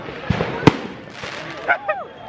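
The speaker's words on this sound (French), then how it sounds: "Ce qui arrive à éclairer mon visage en fait c'est des feux d'artifice." New Year fireworks over Bucharest, with sharp bursts and pops at mid distance and a couple of whistling rising streaks near the end, while people talk in the background.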